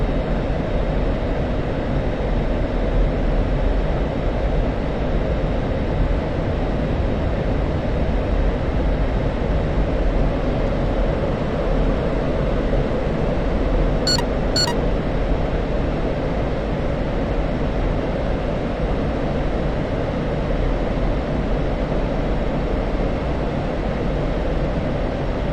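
Aircraft engines in a combat flight video game set in an Iraq battle produce a loud, steady droning roar that runs unbroken throughout, with only a brief faint click partway through.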